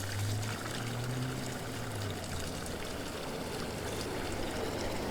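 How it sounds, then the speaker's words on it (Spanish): Water pours steadily from a street drinking fountain, a continuous close splashing stream with a faint low hum at the start. "justo al frente de esto está esta fuente de agua"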